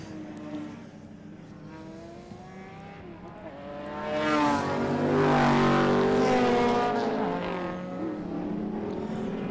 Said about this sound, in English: this is a great drag race here between the Pantera and the 911